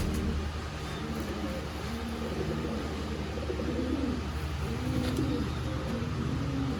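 A pair of heavy-duty dab pigeons coo in repeated low, rolling phrases at close range over a steady background hum, with no talking.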